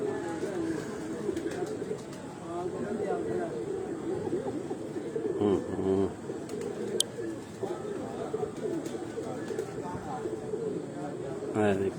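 Several breeder pigeons in a loft in Gujranwala give low, throaty coos on and off for a while, with occasional wing flutters and a sharp click among the steady ambient noise.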